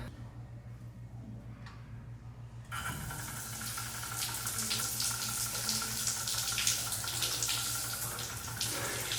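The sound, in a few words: cold shower running water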